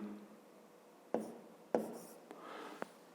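A pen or pencil moves across paper during a fifth-grade maths exercise, faint scratching with a few sharper taps and strokes, close and quiet against low room noise.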